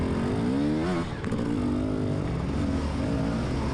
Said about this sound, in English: Back tire spinning, just kind of motoring through this wet, sloppy mud.